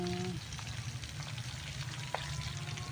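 Eel fish frying in hot oil, a steady close sizzle and crackle that runs throughout with a few brief pops and faint kitchen clatter.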